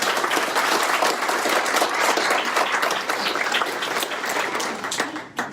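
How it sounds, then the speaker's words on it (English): An audience breaks into steady, dense applause at a workforce center anniversary event in Chester County, the clapping loud and sustained for several seconds before tapering slightly at the end. "Let's give them a round of applause."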